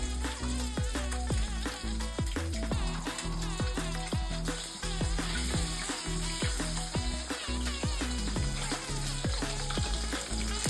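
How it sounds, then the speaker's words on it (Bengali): Fish frying in hot oil for a Bengali rasam fish dish, a steady, loud crackling sizzle with dense spitting pops throughout and no talking. "মাছগুলো ভাজা হয়ে গেছে, এবার আমি মাছগুলো তুলে নেব।"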